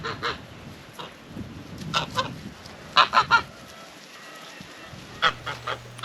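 Geese honk in short bursts, a lone call, then a quick cluster of three loud honks, then a few more, with quiet gaps between.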